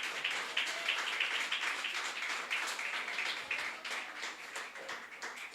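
A church congregation applauds together in steady, dense clapping that fills the room and stays loud throughout without pause.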